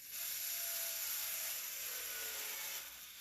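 A power drill driving a screw during a motor swap on a Traxxas Maxx RC truck whirs in one sustained high-pitched run, close and fairly quiet, then winds down near the end.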